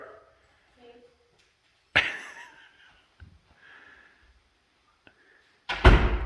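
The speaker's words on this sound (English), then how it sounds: "close the door" A door being closed in a newly built shop-house with fresh door trim, a sharp thud near the middle followed later by a louder, heavier bang, with faint movement noises in between.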